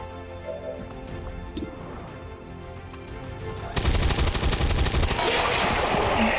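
Dense, rapid gunfire bursts out in XCOM 2, a loud crackling volley lasting a few seconds after a stretch of quieter game ambience and music.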